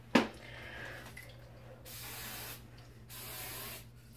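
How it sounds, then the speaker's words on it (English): Hairspray hisses from a can onto a mohawk in two sustained bursts of roughly a second each, close and moderately loud, after a short sharp click at the start. "A little bit more hairspray."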